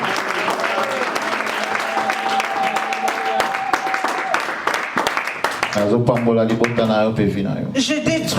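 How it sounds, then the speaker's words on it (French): A church congregation applauds at a French-language worship service, a dense, steady wash of clapping lasting throughout, with voices and some tonal cheering or singing rising over it toward the end. "Acclamons pour Dieu."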